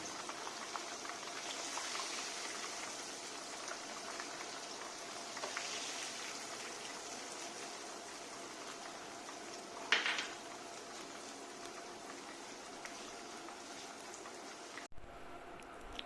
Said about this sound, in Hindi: हमने ग्रेवी बना के रखी थी, हम वो डालेंगे।